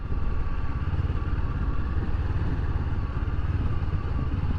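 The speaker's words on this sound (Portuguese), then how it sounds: "O som do motor dela, cara, é outra coisa, né? Moto bicilíndrica." A 2018 Honda CB500X twin-cylinder motorcycle engine rumbles steadily with a deep, throbbing pulse, close and loud, running on without pause.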